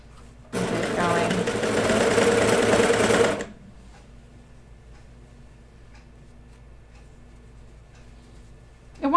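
A sewing machine stitches kid's pajama bottoms in a fast, loud run of about three seconds, then stops, leaving a quiet room with faint clicks and brief talk.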